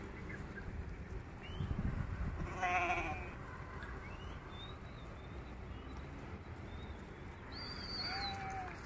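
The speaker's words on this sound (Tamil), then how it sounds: "பாருங்க இவ்வளோ இருக்குண்ணா, நாட்டாடு, கொடியாடு, எட்டையாபுரம், எக்கச்சக்கமான ஆடுகள் இருக்குது" A flock of sheep, including Nattu and Kodi breeds, is heard outdoors at a distance, scattered bleats rising over a soft background hum, fairly faint and with no talking.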